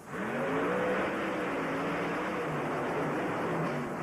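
Monster truck T-Max launching off the starting line at a Houston racing show, a faint, distant engine roar whose pitch climbs and then holds under a wash of crowd and arena noise.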